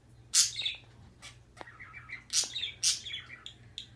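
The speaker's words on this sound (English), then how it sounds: "You can hear my birds in the background." Pet birds chirp indoors in the background, a handful of sharp bright tweets spaced across a few seconds with softer twittering between them over a low hum.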